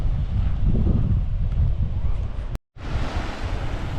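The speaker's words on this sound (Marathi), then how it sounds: "मस्त लाटा आहेत ते बघा" Sea waves wash and break continuously on Amboli Gad beach with heavy low-pitched surf and wind buffeting the microphone; a brief dropout cuts the sound near the middle.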